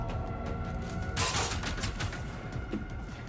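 A hostile robot machine firing at the player in the video game Generation Zero, a burst of rattling gunfire rising out of a steady rumbling game background, fairly close and loud.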